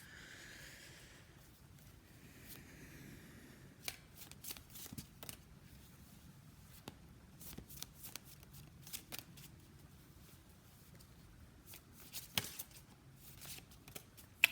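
Tarot cards shuffled by hand for a pick-a-card reading, heard close and quiet as soft riffling and scattered crisp snaps and taps in an irregular rhythm.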